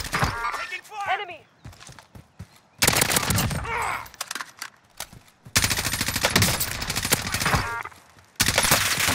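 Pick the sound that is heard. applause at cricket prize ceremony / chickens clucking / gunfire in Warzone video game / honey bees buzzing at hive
gunfire in Warzone video game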